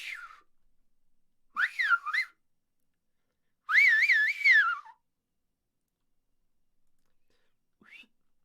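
Someone whistling in an unusual self-taught style: short rising and falling warbling phrases, then a longer wavering trill, close and clear against silence, ending with a faint brief chirp.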